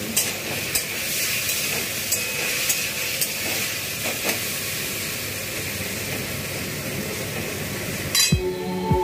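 Chopped tomatoes sizzle steadily in hot oil with panch phoron (Bengali five-spice), the frying close and continuous, with a few utensil clinks and a brief louder clatter near the end.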